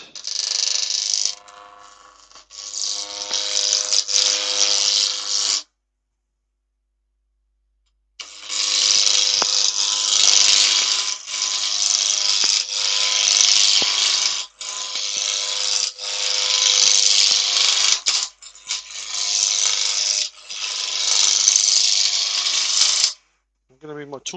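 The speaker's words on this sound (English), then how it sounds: "Gently speed the lathe up. I want this around about 1500 RPM." A wood lathe spinning near 1500 RPM while a gouge cuts the turning wood, a loud, steady, close hissing shear with pulsing cuts, broken by a pause of silence mid-way before the cutting resumes.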